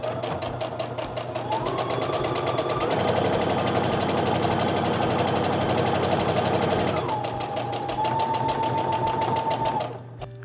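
A sewing machine stitches a paper-pieced quilt seam in one continuous, steady whirring run of about ten seconds, with a faint tonal whine rising and falling over the motor.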